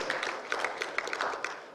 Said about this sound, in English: I'd love it if you can all put up a big show of applause for these people who made this happen.